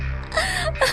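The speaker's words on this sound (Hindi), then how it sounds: "ये रोने की आवाज किसकी है?" A brief sobbing wail with a gasping catch breaks out loudly and alone, serving as a crying sound effect in an animated Hindi moral story.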